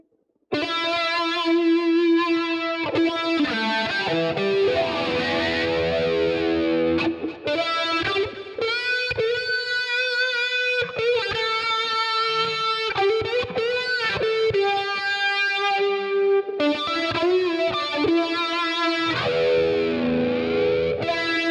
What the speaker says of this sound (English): if we add the chorus into that and the delay, we should get the sort of pretending type sound